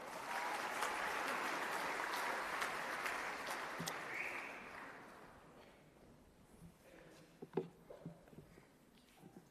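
Audience applause at a Cardiff University graduation ceremony: dense, steady clapping from a large crowd for about five seconds, then thinning and fading to a few scattered claps and faint room noise.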